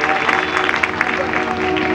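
Applause from an audience at a Shrimad Bhagavat Katha religious discourse in Piplkhedi, Guna district, Madhya Pradesh, a steady clapping wash filling the whole stretch under a droning tone, with a faint voice mixed in.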